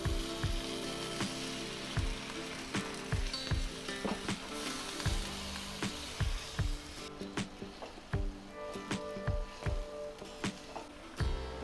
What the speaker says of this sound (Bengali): এবার আমি ভাজা মশলার মধ্যে কিছুটা পরিমাণ জল দেব